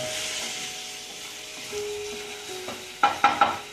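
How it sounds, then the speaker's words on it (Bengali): Caramel syrup for bread pudding sizzling in a pan as a little water is added, a soft steady hiss that fades, followed by three quick metallic clinks near the end. "সামান্য একটু জল দিয়ে দেবো। আমার ক্যারামেল সিরাপ তৈরি।"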